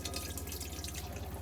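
A caravan hot tap sputters and drips as the water system refills after a winter drain-down, giving faint irregular splutters of air and water over a low steady hum.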